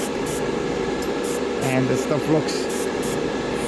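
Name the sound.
chrome spray paint sprayed on Gundam model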